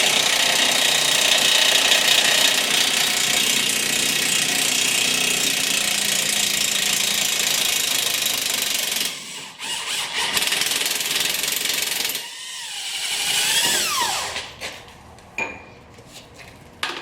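An impact gun loosens suspension bolts under a 100 Series Land Cruiser during an AHC delete: a long, loud, continuous hammering rattle, then shorter bursts and metallic clanks.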